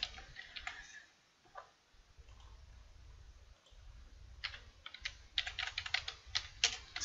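Quick taps on a computer keyboard while typing a search into a browser search bar, coming in short bursts with brief pauses, close and fairly soft, with no talking.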